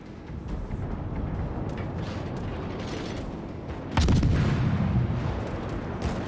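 Warship guns firing in a naval battle video game: a continuous low rumbling din of distant cannon fire, with a heavier booming salvo striking midway and rolling on afterward.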